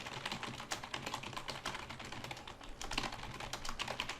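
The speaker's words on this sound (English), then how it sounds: "I like the sound of keyboard." Rapid typing on a computer keyboard, a fast continuous patter of close, crisp key clicks with no pauses, fairly quiet overall.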